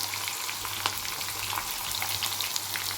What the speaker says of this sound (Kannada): ಈರುಳ್ಳಿ ಏನು ಕಟ್ ಮಾಡಿ ಇಟ್ಕೊಂಡಿದ್ದೆ ನಾನು ಒಂದು ಒಗ್ಗರಣೆಗೆ ಅಂತ ಅದನ್ನು ಹಾಕ್ಕೊಳ್ತಾ ಇದ್ದೀನಿ